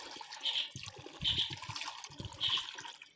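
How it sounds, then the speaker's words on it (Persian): Water is poured into a pot of sour plums on a kitchen stove, a faint, uneven trickling and splashing with brief brighter bursts, and no voices. "حالا یه مقدار آب میریزم"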